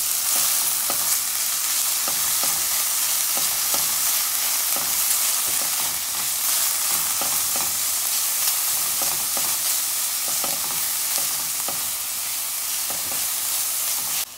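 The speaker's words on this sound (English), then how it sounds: "I added my onions and I'm gonna cook it up for a few minutes" Onions, hot pepper, thyme and garlic fry in hot oil in a pan, a loud, steady sizzle with a regular scrape-and-stir rhythm running throughout, close up and with no voices.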